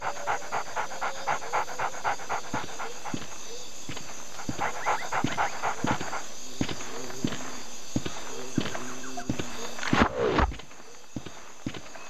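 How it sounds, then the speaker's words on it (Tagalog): A dog in the PlayStation 2 stealth game Splinter Cell: Pandora Tomorrow pants rhythmically in steady bursts over a constant ambient game hum, with soft footstep-like thuds and a louder rustling swell near the end. "Ah, may aso."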